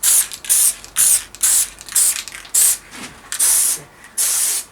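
Aerosol can spraying adhesive for laying cork in a carport, in a series of about nine short hissing bursts, evenly spaced and close, with no talking.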